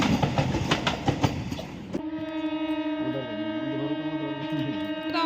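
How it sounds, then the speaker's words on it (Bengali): A Vande Bharat express train rumbles and clatters past close by, then a long steady droning horn-like tone sounds over the fading rumble. "পাশ দিয়ে যাচ্ছে একটা বন্দে ভারত"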